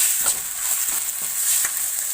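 Spices, cloves and chillies crackle and sizzle in hot oil with a steady hiss, punctuated by a few sharp pops, close up.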